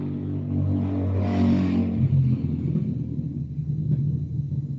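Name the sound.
motorcycle engine revving sound in Intellivision Amico video game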